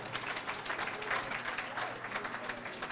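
Audience applause at a celebration for a university faculty of social welfare and health sciences, a continuous crowd of hands clapping evenly throughout at fairly close range.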